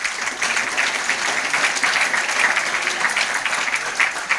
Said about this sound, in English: a round of applause for Alex for that.